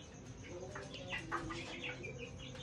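Several chickens cluck softly and irregularly, close by but faint, with a steady low background hum.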